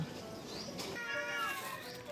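A pet cat meowing indoors at home, a couple of drawn-out, wavering meows close to the microphone, fairly soft, with faint room noise around them.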